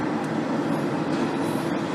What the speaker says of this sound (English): It's after this train.